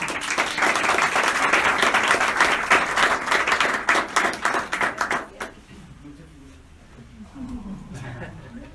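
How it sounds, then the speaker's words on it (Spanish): An audience at a dental lecture claps in dense, steady applause that thins into scattered claps and fades out after about five seconds, followed by someone speaking. "Démosle un aplauso, por favor, a la otra."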